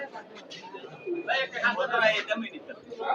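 Pigeons at the Sarulia pigeon market coo in soft, repeated bursts close by, mixed with other chirpy calls and some background voices.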